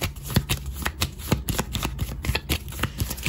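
Playing cards are handled and drawn from a deck in a rapid series of crisp close slaps and riffling clicks, like shuffling, with no talking.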